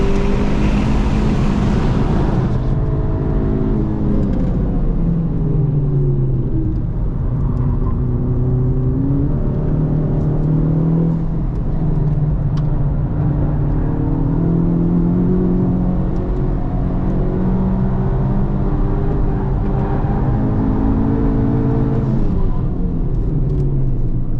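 Turbocharged Honda Civic Type R FL5 engine on a hot track lap, a loud continuous drone with rising and falling pitch through gear changes and throttle, steady and close throughout with no talk.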